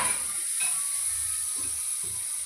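Butter sizzles in a hot kadai for pav bhaji, a soft, steady hiss with a few faint crackles and stirring scrapes, close and on its own.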